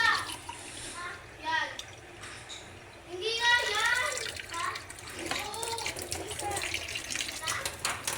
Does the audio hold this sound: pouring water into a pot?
yes